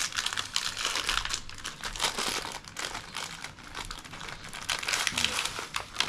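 Shortbread biscuit packaging, part of a package sent from Australia to Thailand, is crinkled and torn open by hand in a close, continuous run of crackling plastic lasting several seconds, with no talk over it.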